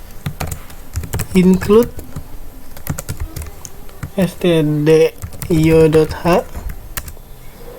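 C code for a while loop being keyed in on a computer keyboard, a steady patter of close keystrokes running under someone speaking Indonesian, who reads out part of the code.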